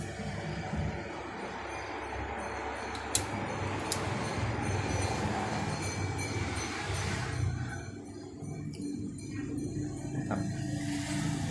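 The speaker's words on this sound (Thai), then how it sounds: "พัดลมระบายความร้อนก็ทำงานตลอดนะฮะ" Cooling fan of a 1500VA/900W UPS powering a 6000 BTU portable air conditioner, giving a quiet, steady whir with a faint mechanical hum and a few soft clicks.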